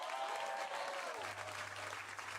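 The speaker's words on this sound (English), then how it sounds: "Clap your hands if you like the Bad Friends." Audience clapping at a live comedy show, a steady dense wash of applause filling the whole moment under a low hum, with no voices.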